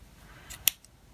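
A single crisp snip of small scissors cutting yarn, quick and close, against a quiet background.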